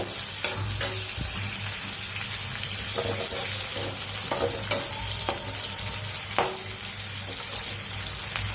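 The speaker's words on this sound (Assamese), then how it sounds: "অলপ পিঁয়াজখিনি ৰঙচুৱাকৈ ভাজি ল'ব" Onions sizzle steadily in hot oil as they brown, with repeated scrapes and clinks of a spoon stirring the pan.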